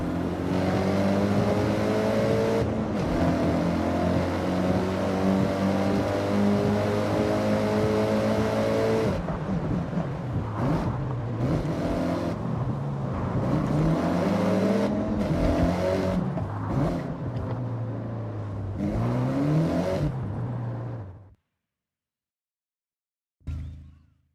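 A loud rally car engine in Forza Horizon 6, fitted with a turbo and anti-lag, revs and roars continuously with sharp crackling pops between gear changes, then cuts off abruptly near the end.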